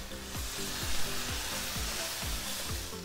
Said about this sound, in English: frying meat or vegetable over high heat while constantly cooking